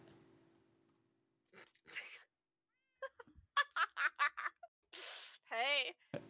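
A Minecraft cat gives several short meows in a quick cluster, then a longer wavering meow near the end, heard between bursts of people talking in a quiet setting.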